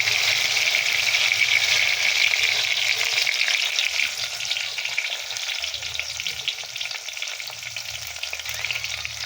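Tempering spices sizzle and fry steadily in a hot pan, a loud continuous crackle with occasional stirring, no voices.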